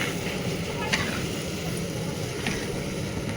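Rice and mung dal fry in mustard oil in a pan, giving a steady, close sizzle with faint crackles throughout.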